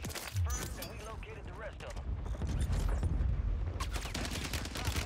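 Rapid MP5 submachine gun bursts in a squad shooter video game, sustained and dense, mixed with other distant gunfire and game effects while a player talks over the shooting.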